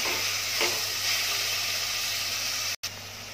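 Chopped karpooravalli (Indian borage) leaves sautéing in a hot pan give a steady, close sizzle with soft frying hiss, continuous throughout and briefly cutting out near the end.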